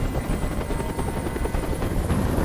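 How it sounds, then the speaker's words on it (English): A helicopter in the video game Detroit: Become Human makes a steady, loud rotor thrum and whine that fills the whole stretch without a break. "Tell that helicopter to get out of here!"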